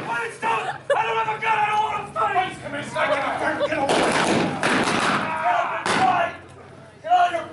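Gunshots crack during an Old West gunfight reenactment in Arizona, a burst of sharp, loud reports clustered together, with people shouting and talking around them.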